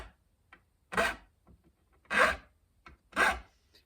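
A file rasps across the fret ends of a license plate guitar to bevel them: three slow, distinct strokes, quiet and close, with faint small taps between them.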